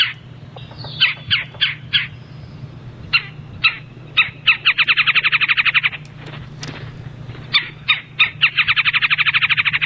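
A string of sharp woodpecker calls, single notes mixed with rapid chattering rattles, fairly close and loud over a steady low background hum.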